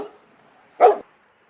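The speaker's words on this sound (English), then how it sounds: "dog," A single short, sharp dog bark rings out once after a moment of near silence, close and clear, with nothing else audible.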